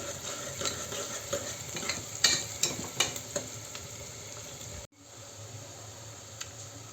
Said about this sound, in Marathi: मी ह्याच्यामध्ये कांदा घालून घेतला आता मी ह्याला छान असं गोल्डन ब्राऊन होईपर्यंत छान असं परतवून घेते